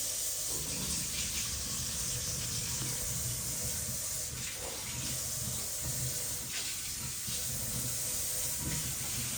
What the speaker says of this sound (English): I'm just gonna open the tap